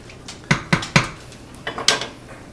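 A spoon scrapes and knocks against a cooking pot while cayenne pepper is stirred into zucchini, giving three sharp clanks followed by a softer cluster of taps.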